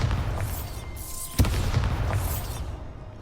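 A Bombarda spell explodes in Hogwarts Legacy, a single sharp boom partway through that rises above a rumbling game soundscape and then fades.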